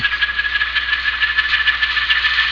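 Atlas RS-1 model diesel locomotive with a LokSound decoder running through its speaker, a steady buzzing engine drone with a fluttering rattle and a constant whine, loud and close with no talk.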